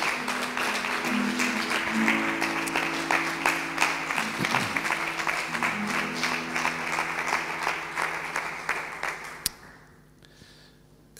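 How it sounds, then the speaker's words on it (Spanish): Sustained applause from a church congregation at a Sunday morning service, dense and steady for about nine seconds before fading out abruptly, with a low organ or keyboard tone held underneath. "Le tributamos un fuerte aplauso para Dios en esta mañana."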